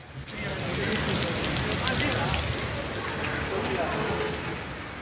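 Rain falls in Tamil Nadu as a steady, dense hiss of drops on surfaces, holding constant and fairly close for several seconds.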